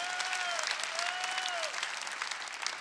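A congregation claps through a Sunday worship service at a Korean church. The applause is steady and sustained, with a faint rising and falling tone running above it.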